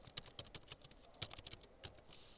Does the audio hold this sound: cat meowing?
no